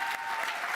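Graduation ceremony audience at the University of West London applauding a cohort: a brief burst of dense crowd clapping from a large hall, steady and moderately loud.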